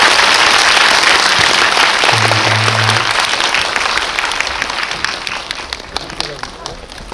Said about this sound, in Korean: 그 작품을 만들어주신 감독님과 배우분들께 큰 박수 부탁드립니다.